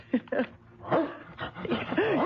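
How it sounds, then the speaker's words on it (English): A dog gives a series of short yips, whimpers and barks close by, with uneven spacing and wavering pitch, including a drawn-out whining note near the end. "when he comes barking back to you, he tells you what's going on outside"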